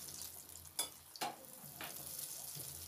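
Radish balls fry in oil in a pan with a constant soft sizzle, broken by a few sharp clacks and scrapes as they are turned over, close up and without speech.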